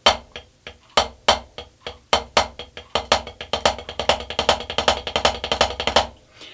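Rapid snare drum double strokes played in quick pairs, right-hand strokes accented louder than others, building into a dense, steady roll before stopping.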